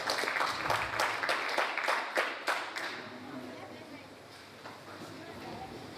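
Audience applause at a project launch event, dense clapping from a crowd for about three seconds that fades into scattered claps, with voices in the room underneath.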